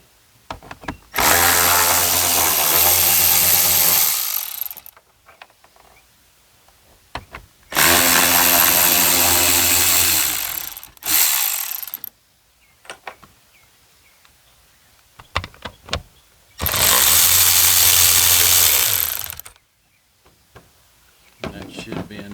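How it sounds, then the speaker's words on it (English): Power ratchet or impact tool running on bolts of a Duramax L5P pickup, three long loud bursts of whirring with short gaps and clanks between them. "I'm going to go ahead and remove these two bolts or screws right here"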